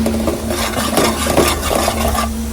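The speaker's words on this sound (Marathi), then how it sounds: "आता मसाला आपण छान त्याला परतवून घेऊ" Masala for goat mutton is stirred and sautéed in a pan, a spoon scraping and clattering against the metal in an irregular rhythm over a continuous close sizzle and a steady background hum.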